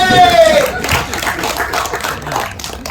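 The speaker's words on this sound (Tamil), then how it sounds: "அவருக்கு ஒரு கைத்தட்டல்" A crowd at a Tamil film audio launch breaks into applause and shouting, a dense, loud burst of clapping and voices that swells at the start and then eases off.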